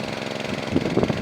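An engine-driven water pump runs steadily while draining a fish pond outdoors, giving a continuous, moderately loud mechanical drone with a slight knock that swells a little toward the end.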